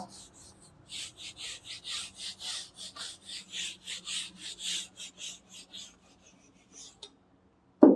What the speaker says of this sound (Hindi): नीचे वाला रब कर देता हूँ